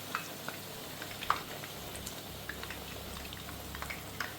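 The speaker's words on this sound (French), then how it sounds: "là on voit que c'est en train de frire gentiment" Matzah frying gently in a pan of hot oil, a faint steady crackle with scattered small pops and spits across a quiet background.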